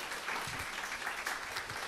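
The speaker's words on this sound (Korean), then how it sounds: "여러분 이럴 때 박수 한번 치는 거 아닌가요?" A congregation claps briefly during a church sermon, a faint, distant patter of applause lasting under two seconds.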